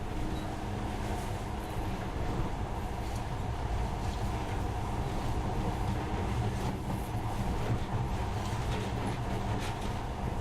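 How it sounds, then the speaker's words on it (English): Steady, continuous rumble of a monorail train running in the video game Metro Last Light Redux, a dense low drone with rattling mid tones that holds level throughout. "But now, this monorail seems magic, doesn't it?"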